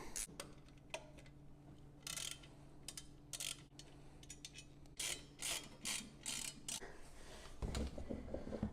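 Ratchet with a 12 mm socket working the skid plate bolts loose on a Kawasaki KLX110 dirt bike, with bursts of rapid close clicking separated by short pauses and a steady low hum underneath.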